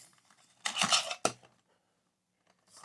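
A metal camping pot lid is pushed into the pot, giving two quick clanking rattles of cookware close by, followed by near silence and a faint later clink.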